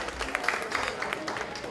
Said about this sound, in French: Applaudissez très fort pour M. Abebo, le président de Bassar Biam.